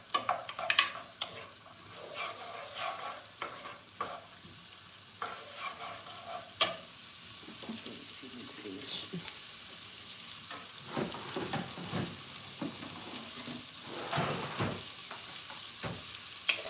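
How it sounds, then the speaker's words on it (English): Nigerian small chops sizzle steadily in a hot frying pan, with a continuous crackling hiss and occasional clinks and scrapes of stirring close by. "So can you hear the sizzling?"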